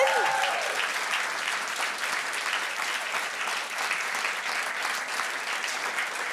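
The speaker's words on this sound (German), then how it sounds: "klatschen wir es doch mal für alle Künstler in der ersten Hälfte" An audience at a stand-up comedy show applauds the first-half performers, steady dense clapping that starts with a brief voice and holds at an even level.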